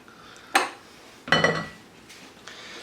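Utensil clinks and scrapes against a bowl while sardine salad with Dijon mustard and mayonnaise is mixed, two distinct clattering bursts close by with quieter scraping between, no talking.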